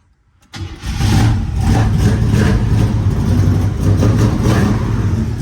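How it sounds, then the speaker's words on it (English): A 1972 Oldsmobile Cutlass Supreme engine cranks briefly, then catches and settles into a loud, steady idle with a low rumbling throb that continues to the end. "So here we go, we're going to crank it up."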